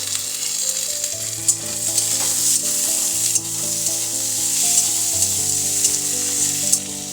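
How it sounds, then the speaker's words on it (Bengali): Onion fries in a pan with chopped tomato, raisins and cashews, giving a loud continuous sizzle with occasional stirring clicks, with music playing underneath. "পেঁয়াজটা কিছুক্ষণ ভেজে নেবার পর একটা বড় সাইজের টমেটো ছোট ছোট করে কেটে দিয়ে দিলাম আর দিয়ে দিলাম কিশমিশ আর কাজু বাদাম"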